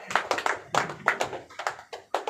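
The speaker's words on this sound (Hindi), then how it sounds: "एक जोर ताली होनी चाहिए" An audience at a product demonstration in Raipur, Chhattisgarh, claps in a loud, close burst of uneven rhythmic hand claps that continue steadily for a couple of seconds.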